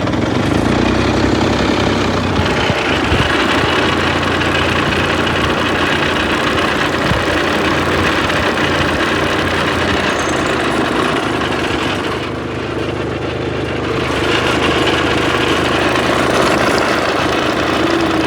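Tractor engine running steadily on a road on a farm, a loud continuous low rumble with knocking throb lasting throughout, briefly dipping near the end before resuming.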